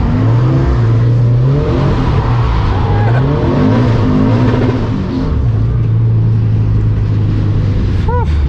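A drift car laps the wet Santa Pod circuit, its engine revving hard and dropping in loud, continuous waves, with tyre squeals and skids throughout.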